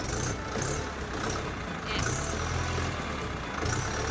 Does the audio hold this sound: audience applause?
no